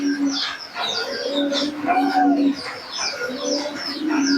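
Teddy pigeons cooing in repeated low throaty calls close by, several birds overlapping in a steady rhythm, with faint chirps and background noise.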